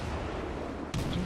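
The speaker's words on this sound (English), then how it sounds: "The battleship is firing." A battleship's main guns fire one deep, booming salvo in the naval video game World of Warships, sudden and loud over a constant rumbling backdrop of engine and sea noise.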